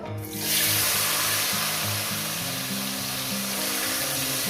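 Paneer pieces dropped into hot oil in a pan for paneer posto, a sudden loud hiss that settles into steady, close, bright sizzling with faint bubbling, no voices.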